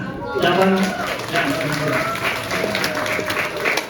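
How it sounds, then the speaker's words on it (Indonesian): An audience of students at a Ramadan Islamic school event claps steadily together, with children's voices calling out over the applause. "Tepuk tangan."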